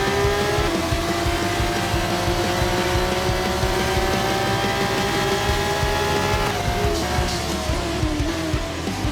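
Race cars scream along a circuit with a steady, layered engine drone at high revs, and the pitch drops as a car brakes into a corner, near and loud, with no talk.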